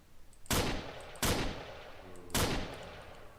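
Gunfire in the Minecraft Crafting Dead mod video game: three loud, sharp shots spaced irregularly, each with a brief decaying tail, against a quiet background with no talking.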